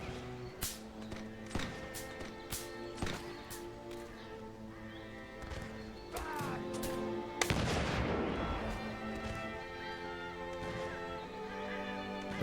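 Modded Mount and Blade game battle with repeated sharp musket or rifle shots, irregular and at varying distances, over a continuous background din, with a louder cluster of shots in the middle and occasional talk.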